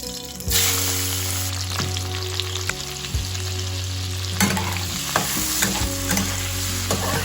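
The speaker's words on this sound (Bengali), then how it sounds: "কড়াইটা ভালোভাবে গরম করে নিয়েছি প্রথমেই আগে মাথাগুলো ভেজে নেব" Prawn heads fry in hot oil in a wok, giving a loud, steady sizzle with scattered crackles and light scraping pops throughout, close up and without voices.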